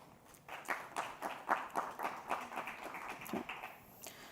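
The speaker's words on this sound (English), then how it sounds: "Please give a round of applause for Mr. Kai." Audience applause at a disaster risk reduction and climate resilience panel welcoming a panelist, a light, fairly sparse patter of claps in a moderately quiet room, rising and fading over a few seconds.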